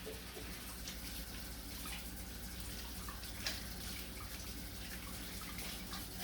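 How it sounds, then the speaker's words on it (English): Water runs steadily from a kitchen tap while hands are washed during chicken thigh preparation, a constant even rush of flow with no talking. "We're going to wash our hands."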